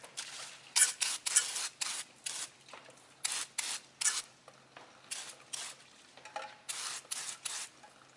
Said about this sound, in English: I'm going to clean it up by spraying it off with some brake clean.